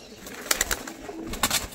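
Caged pairs of fancy pigeons (Madras, Goldeneye types) fluttering restlessly, with a few brief bursts of wingbeats and scuffling close by over a low background hum, no talking.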